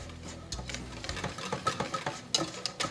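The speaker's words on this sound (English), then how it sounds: "we need to mix it well with a whisk until smooth over the boiling water" Rapid, busy scraping and tapping of a whisk against a bowl of cheesecake batter over boiling water, steady and close, with no voices.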